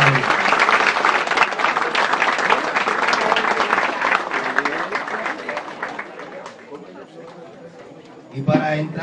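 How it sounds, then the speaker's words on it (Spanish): A crowd applauds at a political rally for presidential candidate Luis Abinader in La Romana, with loud, dense clapping that gradually fades and is mixed with chatter and cheering voices. "Un fuerte aplauso quiero pedirle."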